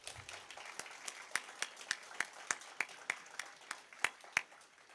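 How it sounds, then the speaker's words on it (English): Students applauding at an entrepreneurial event at Pinellas Technical College, a sparse, quiet round of distinct individual claps spaced out in an irregular rhythm, fairly distant and thin. "Students, how about another round of applause for these folks?"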